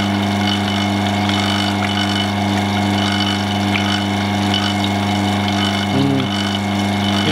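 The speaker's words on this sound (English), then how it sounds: "So now let's close the pump." Vacuum pump running steadily on a vacuum chamber, a loud continuous mechanical hum that stays level throughout.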